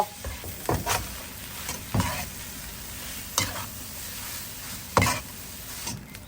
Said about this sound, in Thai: อันนี้ก็คั่ว ใบอ่อนนะคะ หอมได้ที่แล้วก็พอ